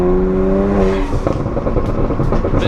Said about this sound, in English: The inlet sound is so intoxicating.